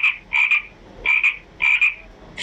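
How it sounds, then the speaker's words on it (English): A frog croaks in three evenly spaced bursts, each a loud, close, raspy double call with brief silence between them. "Frog."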